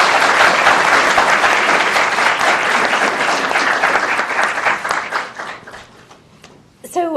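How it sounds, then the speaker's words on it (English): An audience at a law student panel on affirmative action and the Supreme Court claps loudly to welcome the speakers, a dense applause that gradually thins and fades, followed by a voice starting to speak. "So please join me in a round of applause to welcome our speakers."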